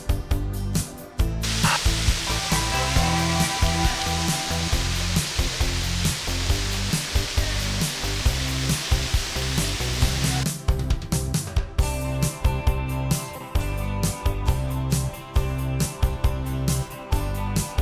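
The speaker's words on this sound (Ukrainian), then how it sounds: "Ось так звучить мелодія найближчого водоспаду Кам'янця Подільського." Water drips and a small waterfall at an abandoned old hydraulic complex in Kamianets-Podilskyi, a steady close rushing spatter filling the whole stretch, with a denser pattering texture after a brief shift midway.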